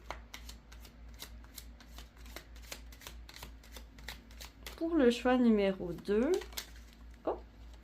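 Tarot cards are shuffled in rapid, even riffles that run steadily throughout, close and crisp, with someone speaking over the later part.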